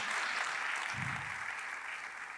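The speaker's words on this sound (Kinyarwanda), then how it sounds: "Dukomere Imana amashyi menshi cyane." Audience applause at a Rwandan gospel performance, a steady wash of clapping throughout, moderately loud and continuous without talk.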